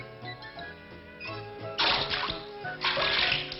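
Cold water splashes in a bath in loud, close bursts of sloshing and splattering over a softer background of running water, with no talk.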